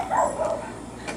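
A dog at home gives a single short, sharp bark or yip indoors, close by and moderately loud, over a faint room background.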